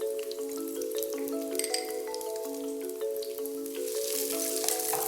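Ginger, green chillies and shallots softening in a hot pan for a fish curry, giving a steady gentle sizzle with light crackles and pops throughout, close and moderately quiet.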